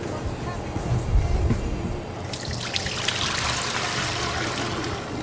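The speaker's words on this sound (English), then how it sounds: "You're going to add your water to here." Water poured into a mixing bowl for pizza dough makes a steady, close trickling and splashing stream that brightens and fills out partway through, running continuously to the end.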